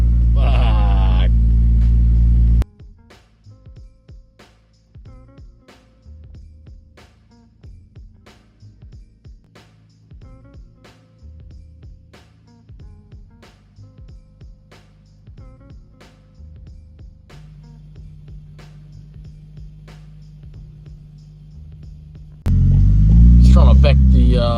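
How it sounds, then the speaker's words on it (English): A Nissan R32 GTS4 coupe with a suspected spun bearing reverses into a shed bay, its engine a low steady rumble with faint rhythmic ticking, bracketed by louder blasts of noise at start and end. "Just trying to back the GTS4 into the shed bay here."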